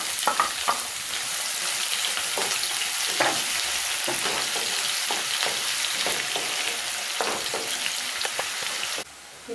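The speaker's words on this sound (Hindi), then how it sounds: "अब हम प्याज डालकर फ्राई कर लेते हैं।" Onions frying in hot oil with cumin seeds for an aloo matar curry, giving a loud, continuous sizzle broken by repeated stirring scrapes and clinks, close up, then briefly dropping away near the end.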